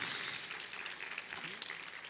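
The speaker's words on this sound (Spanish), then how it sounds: "vamos a dar un aplauso de gloria a Dios" A church audience applauding in an auditorium: faint, continuous clapping heard from a distance, lasting the whole short stretch.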